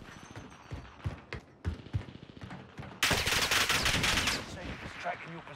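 Call of Duty Warzone gunfire on Rebirth Island: scattered single shots and bursts at first, then a sustained loud rapid burst of automatic fire, with a voice talking under it.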